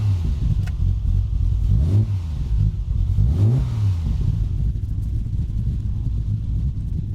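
A Triumph TR6 converted from carburettors to fuel injection rumbles loudly at close range, its engine swelling in a couple of rising revs over a steady idle-like drone.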